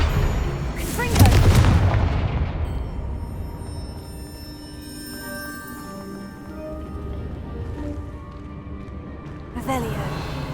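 Fire-spell explosions in Hogwarts Legacy gameplay: a loud booming blast near the start, then a long rumbling, ringing decay with shimmering tonal tails, and another sharp burst at the end.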